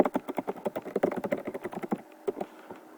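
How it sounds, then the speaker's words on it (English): Rapid typing on a computer keyboard, a quick irregular run of clicking key taps, close and fairly loud, that pauses briefly near the end before a few final keystrokes. "I'm going to type in my message here"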